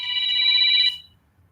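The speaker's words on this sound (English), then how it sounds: "Oh, got a phone call here." A telephone rings once with an incoming call, a bright electronic trill lasting about a second before cutting off into quiet, heard in a garage.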